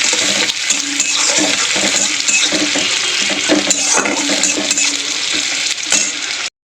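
Chopped onions dropped into hot oil in a kadai with dried red chillies, a loud continuous sizzle with stirring clatter and crackle that cuts off abruptly at the end.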